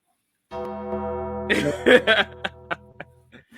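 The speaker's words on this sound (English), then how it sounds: "Ring the gong again." A gong is struck once, ringing out with a loud sustained metallic tone that slowly fades while excited voices shout and cheer over it.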